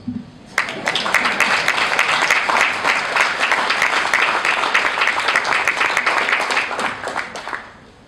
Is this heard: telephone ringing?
no